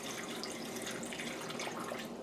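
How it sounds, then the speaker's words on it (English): Warm water poured steadily into canning jars for a Dutch hutspot meal-in-a-jar, a continuous splashing, trickling flow close by and fairly loud, with no talk. "Got the water. Let's put it in."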